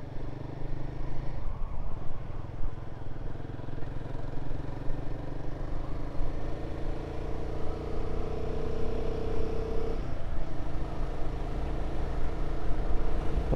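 A Royal Enfield Guerrilla 450 motorcycle engine drones steadily under engine braking in third gear while riding, with a constant close rumble, wind noise and slight shifts in pitch as revs fall.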